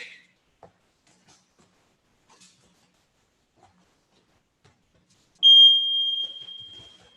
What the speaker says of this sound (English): Let's start the timer for 1 minute and we'll begin.